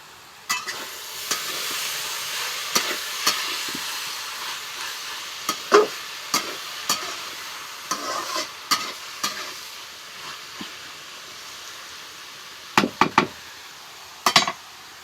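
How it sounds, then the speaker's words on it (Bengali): Bottle gourd fries and sizzles steadily in a pan while a utensil stirs and scrapes it. Intermittent knocks and clinks sound against the pan, close and moderately loud. "এখন এখন ঢাকনাটা উঠায়া ভাজিটা নাড়া দেব।"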